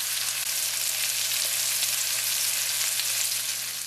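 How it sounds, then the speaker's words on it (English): Pork chops sear in a pan of melting butter with rosemary, giving a steady, dense sizzle that holds close and loud throughout, with a low constant hum underneath and no talking. "That butter melting in there with that rosemary, searing up the pork chops."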